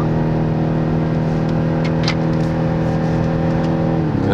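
A BMW X6 M drives along a straight at the Circuit of the Americas race track, its engine giving a loud, steady droning roar heard from inside the car, with the pitch shifting slightly near the end.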